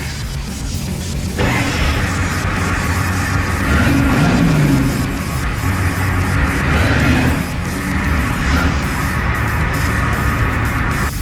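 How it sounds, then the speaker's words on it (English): A 7.3 IDI diesel engine in a U-Haul truck does a burnout: a steady, loud, rough roar that surges and swells for several seconds, with a broad hiss of tyre spin over the engine drone. "Someone say burnout?"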